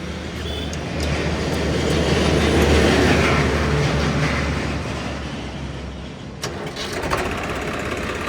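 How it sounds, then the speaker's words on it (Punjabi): Engine of a 2013 model 855 tractor starting up, a low rumbling drone that swells into a steady throb, then a sharp clatter and brief knocks near the end. "ਆਪਾਂ ਤੁਹਾਨੂੰ ਟਰੈਕਟਰ ਸਟਾਰਟ ਕਰਕੇ ਆਵਾਜ਼ ਚੈੱਕ ਕਰਾ ਦਿੰਦੇ ਆ"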